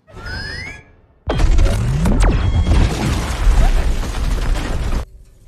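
An ion bomb detonates in the science-fiction film Atlas, a loud sudden blast that erupts into a sustained roaring rumble with a descending whoosh, lasting about four seconds before cutting off abruptly.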